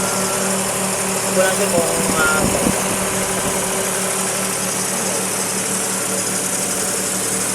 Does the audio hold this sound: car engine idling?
yes